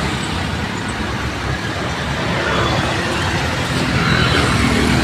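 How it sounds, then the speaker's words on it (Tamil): Heavy road traffic in a Bangalore underpass makes a loud, constant roar of engines and tyres with no pauses, swelling slightly as vehicles pass close by. "இது பெங்களூர் டிராஃபிக்கு."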